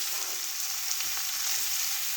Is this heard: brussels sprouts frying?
yes